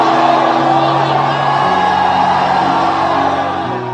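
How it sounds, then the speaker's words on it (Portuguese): A church congregation gives a sustained, loud collective shout of glory at a Pentecostal sermon, a dense roar of many voices with whoops and yells that carries on without pause. "dê um grito de glória aí dentro"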